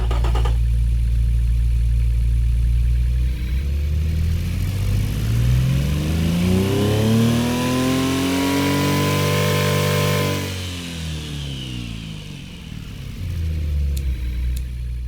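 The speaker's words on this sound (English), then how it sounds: "let's give you a listen of this i3, specifically K-Car i3 engine right here" Kei-car-spec inline three-cylinder engine in the Automation game, revving up through a rising harmonic sweep to high RPM then dropping back, loud and continuous with no talk.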